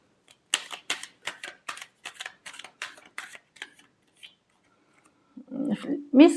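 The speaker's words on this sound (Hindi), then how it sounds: "Last shuffle." Tarot cards being shuffled for a final shuffle: a quick run of about a dozen crisp, rhythmic riffling clicks and flicks up close, then a pause before a voice starts speaking at the end.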